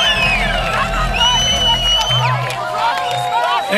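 A concert crowd at a tribute show cheers and whoops loudly and continuously, with a dense wash of voices and shouts.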